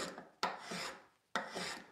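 A Veritas flat bottom spokeshave shaves wood in two long rasping strokes, each opening with a sharp bite and then trailing off, heard up close and alone with no talk.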